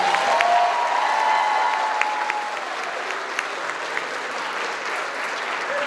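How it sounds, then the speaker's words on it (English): A large crowd at a high school graduation ceremony claps in sustained, dense applause that slowly eases in intensity over several seconds, with no speech over it. "Let's give him another round of applause."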